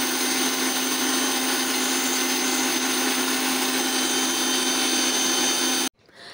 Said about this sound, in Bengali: রান্না করার জন্য মশলা বেটে নিচ্ছি।